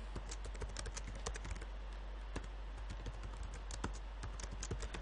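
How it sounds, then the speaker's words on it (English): Rapid typing on a computer keyboard while coding a game, sharp key clicks in quick irregular bursts with short pauses, close and clear over a faint steady hum, with no talking. "just going to be typing here"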